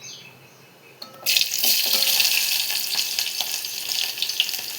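Onions tipped into hot oil already crackling with cumin and mustard seeds, a faint quiet stretch giving way to a sudden loud sizzle that keeps hissing and popping steadily.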